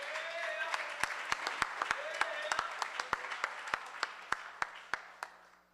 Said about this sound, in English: Give these men a wonderful, loving round of applause.